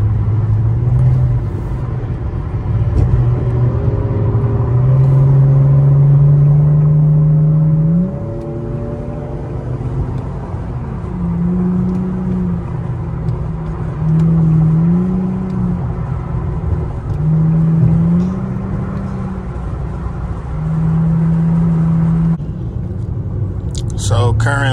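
Infiniti G35 HR sedan with the resonator deleted pulls hard, its exhaust droning loud and rising through the revs with brief dips at each upshift, close and steady for most of the run.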